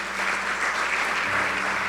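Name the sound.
congregation applauding in church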